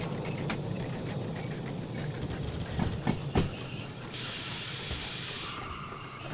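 Locomotive rolling on rails in the Derail Valley train game, a steady rumbling run with rhythmic clicks from the wheels and a high squeal creeping in later, continuous and fairly loud, no voices.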